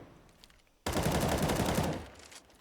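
Counter-Strike automatic rifle fire on the Cobblestone map, a sudden rapid burst of shots lasting about a second, loud and close, then fading into quiet game ambience.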